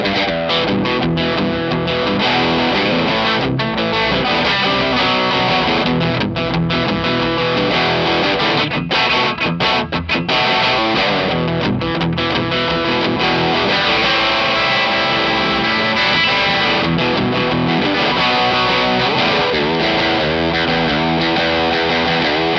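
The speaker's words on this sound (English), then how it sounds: "let you hear some really heavy distorted rock sounds" Heavy distorted rock guitar played through an amplifier with its treble boost engaged, a dense, continuous wall of crunchy, bright chords and riffs, loud and sustained with no talking.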